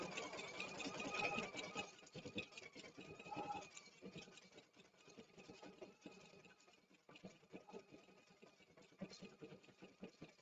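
A sewing machine doing dense embroidery stitching, a rapid, even mechanical chatter with rhythmic needle clicks that runs on continuously, close but fairly quiet.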